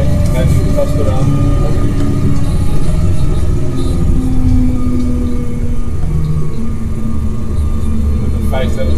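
Agrifac Condor self-propelled crop sprayer engine driving, a steady loud low rumble and drone running throughout without pause, with people talking over it.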